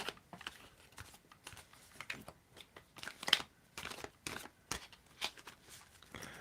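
Tarot cards being shuffled by hand in a quiet room, giving repeated soft riffling and flicking bursts at an irregular rhythm, close and fairly quiet, with no voices.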